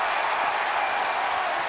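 A baseball crowd roars and claps at a Texas Rangers home run during a 30-3 MLB game, a dense steady wash of stadium cheering with no voices close by.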